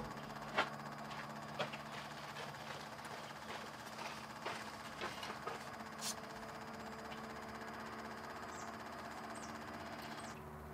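Electric vacuum pump in a Ford Super Duty hub lock system hums steadily and faintly at close range, a continuous mechanical drone with a few small clicks and knocks over it.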